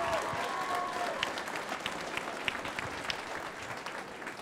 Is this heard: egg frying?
no